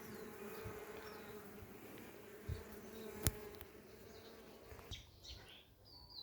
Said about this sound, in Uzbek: Mana kecha ari olib keldik, arilar gullarimizga kelib